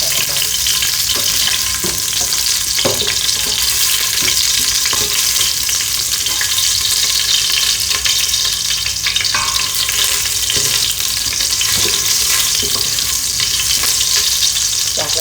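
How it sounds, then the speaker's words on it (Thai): Garlic and rosemary or coriander root are stir-fried in vegetable oil in a pan before pork goes in. A loud, continuous sizzle runs throughout, with repeated scraping and knocking of the spatula against the pan. "ตามด้วยกระเทียม ตามด้วยโรสแมรี่หรือว่ารากผักชีนะ ผัดให้เก็มีกลิ่นหอมนิดนึงนะคะ"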